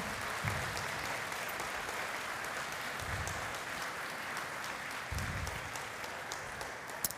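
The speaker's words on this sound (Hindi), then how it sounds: "आपकी ज़ोरदार तालियां बताएंगी कि आपने क्या सीखा" A church congregation at St. Paul's Church, Rawalpindi, claps after a play at a Sunday Advent service, a faint, distant, continuous patter of many hands with occasional low thumps underneath.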